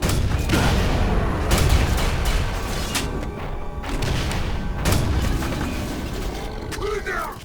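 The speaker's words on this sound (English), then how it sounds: "Grenades explode on contact sometimes." Grenade explosions and weapon fire in the Quake 4 shooter game, a run of loud thumping blasts and mechanical clatter over rumbling noise, with a voice speaking near the end.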